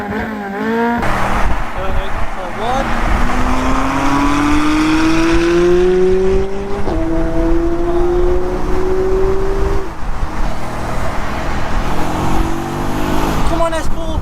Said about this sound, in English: see if the V8 can keep up with the V8 that's strapped up with 2 turbos